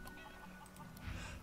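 Chickens clucking in the fantasy role-playing game Divinity: Original Sin II, a few short close clucks and squawks over a busy game ambience, with a louder burst toward the end.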